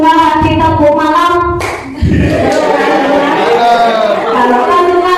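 A group of children and adults clap hands in unison during a children's action song, loud and close, with singing voices carrying the melody throughout and a brief pause before the clapping resumes.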